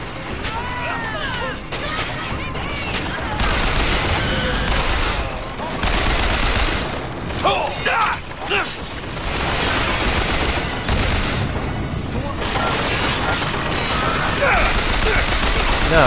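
Gunfire from a firefight in the video game BioShock Infinite, heavy and sustained for the whole stretch, with repeated bursts over dense combat noise and crashing impacts.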